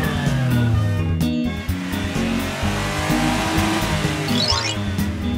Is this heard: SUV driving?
yes